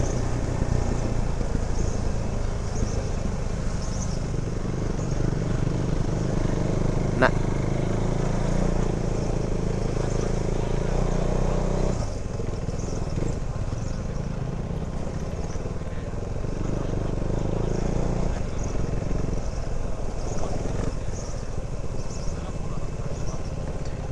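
A motorcycle engine-brakes steadily in first gear on a rocky forest track, a constant low rumble with a brief sharp click partway through.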